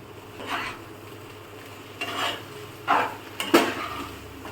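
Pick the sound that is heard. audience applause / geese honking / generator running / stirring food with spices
stirring food with spices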